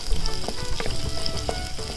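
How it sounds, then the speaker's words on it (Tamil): Shallots and curry leaves sizzling in hot oil for a Karaikudi-style tomato kadaiyal, a steady close crackle with faint stirring scrapes and no voices. "சின்ன வெங்காயத்தை நல்லா வதக்கி விட்டுருங்க"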